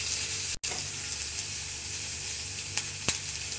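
A steady, close sizzle of finely chopped vegetables frying in a hot pan, with a couple of faint clinks or stirs. No one speaks.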